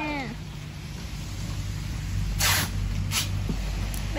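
Steady rain falling outdoors, a soft continuous hiss and patter at low level with no voices.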